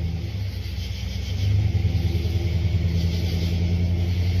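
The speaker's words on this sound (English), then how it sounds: "Gosh, that car is crawling by." Slow-crawling car passing a campsite at night beside a crackling fire, a low steady engine rumble that grows louder midway and holds, no voices over it.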